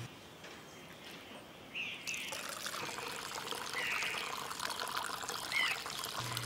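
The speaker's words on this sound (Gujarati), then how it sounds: "બક નળીને લીધે પાણી મોટી બોટલમાંથી નાની બોટલમાં ભરાશે." Water runs through a siphon tube from a large plastic bottle into a small one, giving a steady trickling, pouring wash that swells partway through and carries on to the end.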